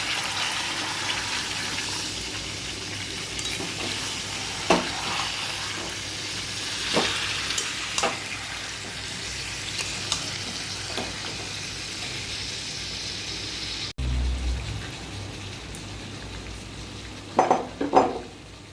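Chicken korma cooking in a pot after rinse water from a bowl is poured in, with bay leaves, whole onions and garlic nearby; a steady sizzle and bubbling runs throughout, marked by occasional clinks of a spoon against the pan.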